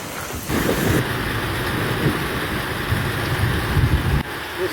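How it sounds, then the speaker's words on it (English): Phoenix monsoon thunderstorm with heavy rain pounding down, a dense steady roar broken by deep thunder rumbles, loud and close, no speech. "That storm."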